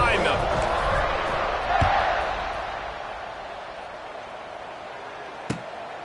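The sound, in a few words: crowd cheering in Madden football video game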